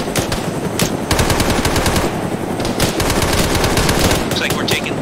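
Gunfire in Arma 3: rapid, loud bursts of automatic machine-gun fire rattle almost continuously, with brief pauses between strings of shots.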